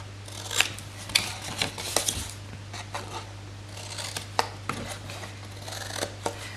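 Scissors snip notches out of card stock for a slide-on lid gift box, a string of crisp, close cuts at an uneven pace over a steady low hum.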